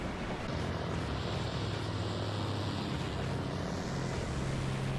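Propeller aircraft drone steadily in an animated fantasy series, a continuous engine hum with shifting low tones throughout, no voices over it.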